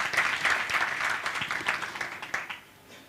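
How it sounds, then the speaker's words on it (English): Audience clapping at a Rotary president-elect learning seminar, a moderate, fairly distant round of hand claps that tapers off over about three seconds. "you can clap for him"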